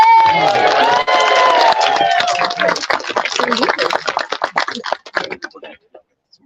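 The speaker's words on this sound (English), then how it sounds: "An applause for our beautiful accompaniment." Audience at an evening royal court gathering breaks into loud cheering and whooping with scattered clapping, a dense burst of many voices that thins out and fades to quiet near the end.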